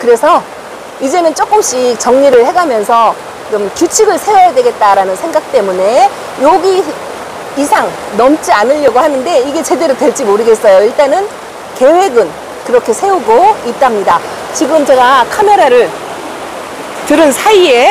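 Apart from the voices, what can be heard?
heavy rain pouring down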